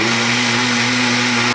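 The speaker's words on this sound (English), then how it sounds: "And we blend again." A kitchen blender whirs steadily at close range for about a second and a half, a constant motor hum with a bright whine on top, running alone without voices before cutting off abruptly.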